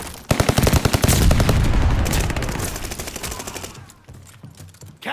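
Rapid automatic gunfire from a video game, loud bursts with dense repeating shots that thin out toward the end, followed by a short pause and a renewed burst.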